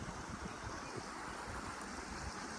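Small stream tumbling over a little waterfall near Kotagiri in the hills, a constant broadband rush of flowing water with wind noise, steady and fairly faint, no talk.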